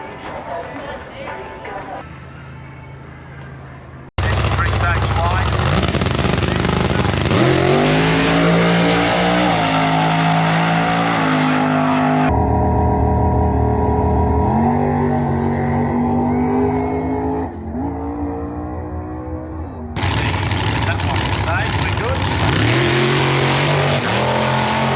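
Drag race cars at an Australian drag strip, engines revving hard and roaring down the track in long, loud sustained bursts with shifting pitch, separated by brief quieter gaps, near and dominant throughout.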